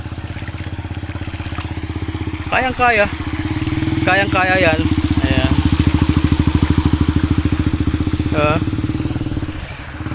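A motorcycle engine idles steadily nearby at a boat terminal in Caingin, Santa Rosa, Laguna, with a throbbing, chugging rhythm, while a person talks over it in short bursts.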